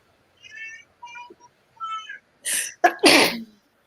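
After several short high squeaky meow-like calls, a loud, sharp sneeze bursts out close by, a quick intake followed by an explosive breathy blast.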